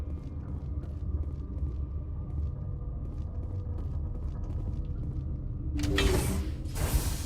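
An elevator ride in the video game Mass Effect: a steady low mechanical rumble with faint ratcheting clicks, then a louder clanking, gear-like burst near the end as the ride stops.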